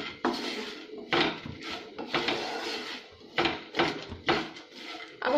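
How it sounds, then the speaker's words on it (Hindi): Masala peanuts being stirred in a pan with a utensil: repeated clattering scrapes and knocks of metal, loud and close, in irregular bursts with short pauses between. "थोड़ा सा हम गरम मसाला डालेंगे इसमें, इसे अच्छे से मिक्स कर लेंगे"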